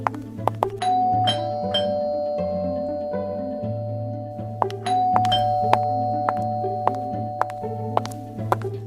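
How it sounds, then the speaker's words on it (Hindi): A doorbell rings again and again indoors in a quick, insistent run of bright ding-dong chimes, each repeat close and clear over a soft backing tone, with no talking. "कौन बदतमीजों की तरह घंटियां बजाई जा रहा है?"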